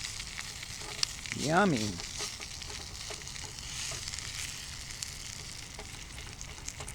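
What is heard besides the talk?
food cooking in a pan, stirred with a Dollar Tree spatula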